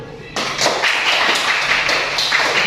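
A group of people in a classroom clap their hands, a dense steady applause starting abruptly and continuing close and loud, with voices mixed in.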